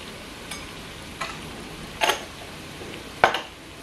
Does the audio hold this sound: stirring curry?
yes